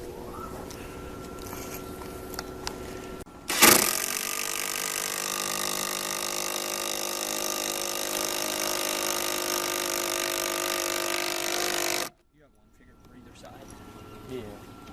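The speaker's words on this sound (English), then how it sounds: "And then you can run some screws into either side." A power tool drives screws into the legs of a wooden hunting blind under construction, starting with a loud jolt and then whirring steadily and loudly for about eight seconds before cutting off, with quieter handling noise around it.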